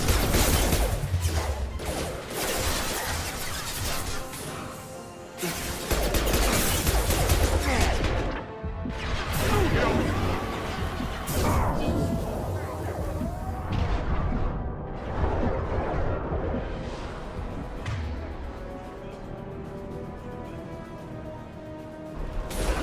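Enemy gunfire in Mass Effect 2 from Blue Suns mercenaries: dense, continuous bursts of shots and heavy impacts crashing over one another for over twenty seconds, loud and close with no talk.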